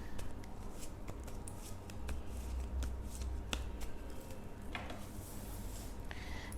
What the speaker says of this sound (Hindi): तो लिब्रा के लिए मैं कार्ड्स शफल कर रही हूँ